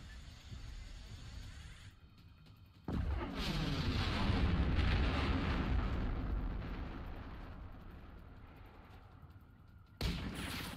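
A thermobaric blast in the Generation Zero game erupts into a loud, sustained rolling boom that swells and lingers for several seconds before fading, followed by a sharp second crack near the end.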